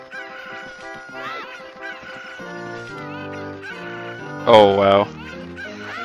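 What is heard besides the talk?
cuccos clucking in video game Zelda: Ocarina of Time 3D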